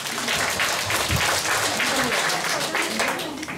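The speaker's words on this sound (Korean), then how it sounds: "다시 한번 큰 박수 부탁드리겠습니다." Sustained applause fills an awards ceremony and training event held for a city's volunteer disaster-prevention team, a dense, steady wash of clapping from a large crowd that lasts throughout.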